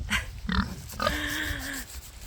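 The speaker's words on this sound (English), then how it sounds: "Ooh, I see a pig." A pig on a farm grunts and squeals in short calls that rise into a longer, tonal squeal, close by and loud, with no one talking.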